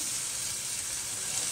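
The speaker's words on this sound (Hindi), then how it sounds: "अब इसमें हम डाल देंगे हमारा मैश किया हुआ" Mashed jackfruit going into sizzling masala made with cumin and garam masala: a bright, continuous hissing sizzle, close and steady, with faint stirring beneath and no talk.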